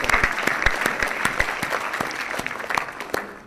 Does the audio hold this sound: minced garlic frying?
no